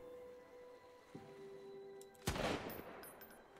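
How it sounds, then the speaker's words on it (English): An enemy firing from inside a building in Sunkenland: after a quiet, humming stretch, a single loud gunshot cracks out and trails off into a short rumbling echo. "There's one more in there shooting at us."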